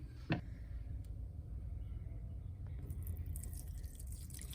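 A single clear drip lands early, followed by a quiet steady trickle of whey through cheesecloth with faint intermittent drops in a hushed room.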